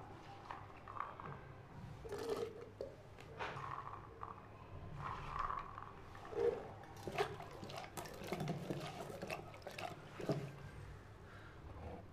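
Vegetables are rinsed by hand in a bowl of water for a mixed vegetable dish, with soft splashing, sloshing and scattered drips that continue steadily near the microphone.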